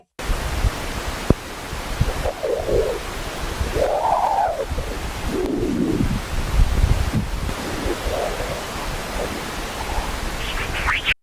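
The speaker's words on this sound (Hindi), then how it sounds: "अभी जो आपने आवाज सुनी यह सोलर विंड्स से निकलने वाली डिस्पर्सिव वेव्स की आवाज थी" Sonified recording of dispersive waves in the solar wind, with eerie chirping, whooping tones that sweep up and down over a steady hiss, a rising tone at the end, continuous and fairly loud.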